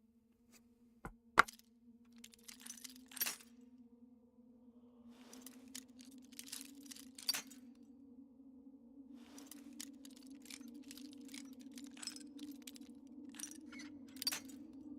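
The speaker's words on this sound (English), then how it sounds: "Picking a lock underwater." Faint clicks and light metallic ticks of lockpicking underwater in the video game Skyrim, scattered over a steady low watery hum, with a couple of sharper taps near the start.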